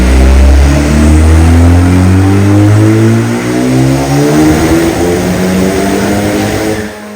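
Honda K20C engine fitted in a carbon-fiber Lamborghini Super Trofeo revving hard on a dyno, a loud close roar that sweeps up in pitch, holds high, then cuts off at the end, with no voices.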